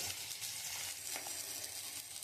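Onion and green chili sizzling steadily in hot oil alongside garlic and black cumin, a continuous moderate frying hiss with no speech.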